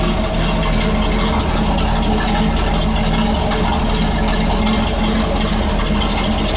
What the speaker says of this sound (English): As I mentioned, a dual exhaust.